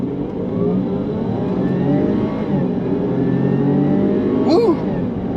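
A Land Rover Discovery accelerates hard from a standstill, its engine rising steadily in pitch through the gears with a loud, close drone; a voice whoops briefly near the end.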